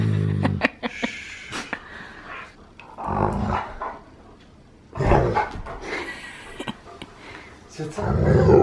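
A dog on a couch lets out playful howls and growls in several bursts, fairly close and loud, with pauses between them.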